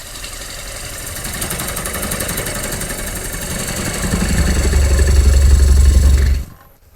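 Gouge cutting across the rim of a wooden bowl spinning on a lathe, a continuous rasping, humming cut that grows louder and heavier before stopping abruptly near the end.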